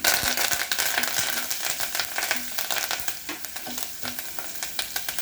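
Green chillies and curry leaves sizzle in hot oil in a pan while chickpea flour chutney is made, a dense continuous crackle with occasional stirring taps close by.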